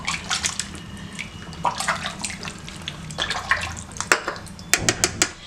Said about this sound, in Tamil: இந்த அரைப்படி அளவுக்கு தண்ணியை இதில் ஊற்றிடுங்க